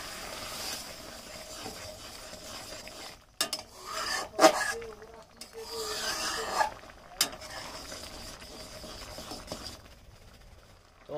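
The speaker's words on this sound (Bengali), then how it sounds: "এবার হালকা করে আমরা নেড়ে নেবো" A spoon stirs boiled mixed dal in a pot, giving soft intermittent scraping and rubbing strokes against the metal, faint and spaced out with quiet gaps between them.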